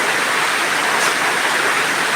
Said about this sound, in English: the rain here in this Calabar today is too much